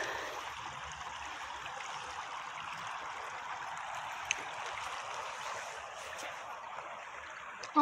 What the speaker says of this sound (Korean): 물소리 졸졸졸 나죠?